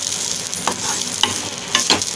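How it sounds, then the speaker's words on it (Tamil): Grated coconut sautés in a little ghee for coconut burfi, giving a soft, steady sizzle with a few distinct scraping stirs of the spoon against the pan. No voices are heard. "இப்போ இதில் ஒரு சொட்டு நம்ம லேசாக நெய்யை விட்டுக்கலாம். இந்த வாசத்துக்காக தான் லேசாக வதக்கினா போதும்"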